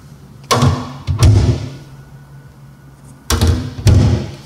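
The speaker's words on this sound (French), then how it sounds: "deux portes qui vous donnent accès à un large espace de" Doors of a solid teak sideboard swung open and shut, two pairs of close, loud wooden knocks and thuds with brief rattles, separated by a quiet pause.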